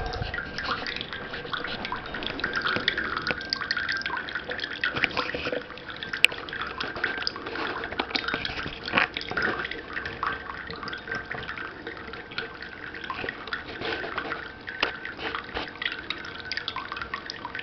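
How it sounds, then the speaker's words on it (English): Drink taps pour liquid into glasses at a wine barrel bar table, a steady trickling, dripping fill running continuously at moderate level with faint background clatter. "may not be clearly seen in the picture, but the glasses are filling"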